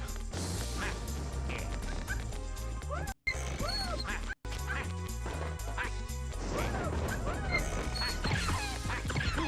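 Repeated duck-like bird quacking calls in Wario World over busy electronic game music, with short cuts to silence partway through.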